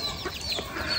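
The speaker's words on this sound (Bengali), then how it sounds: "এই যে দেখো একটা মুরগির মাম্মা।" A hen clucks in a village yard, short soft clucks scattered across a brief moment with light background noise and no talking.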